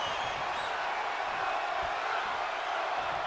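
A packed wrestling arena crowd in WWE 2K26 keeps up a dense, continuous roar of chanting and cheering, loud and steady throughout, with no clear individual voices rising out of it.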